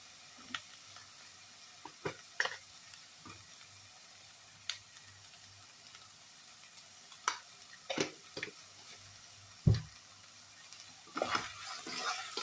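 Okra stirred with salt in a frying pan for vendakka theeyal, with scattered scraping and clinking stir strokes over a faint sizzle, spaced irregularly and fairly quiet, no talking.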